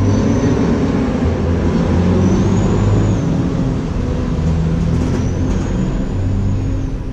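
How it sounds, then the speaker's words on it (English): A truck on a main road roars steadily past at close range, a loud, continuous rumble of engine and tyres with a faint high whine, holding level throughout with no talking. "Sorry, truck noise."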